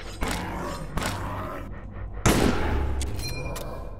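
Gunshots in The Last Case of Benedict Fox video game: a few sharp, loud reports spaced apart, the last one heavier with a lingering rumble, over a low background.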